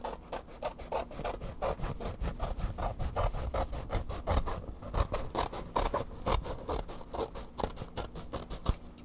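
Material for a DIY craft piece being cut roughly by hand, giving a steady train of close, rasping strokes in a fast, even rhythm for the whole stretch, with no talking over it.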